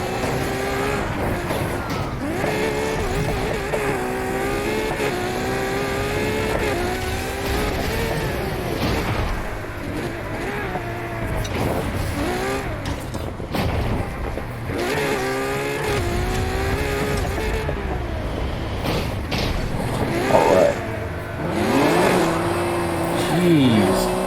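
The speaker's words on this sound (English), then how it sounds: "Oh my god, the initial acceleration off the line is ridiculous." A car in Need for Speed Heat accelerates hard off the line, its engine note climbing steeply through repeated gear shifts with rising and falling pitch sweeps, loud and continuous throughout, with a voice talking over the top at moments.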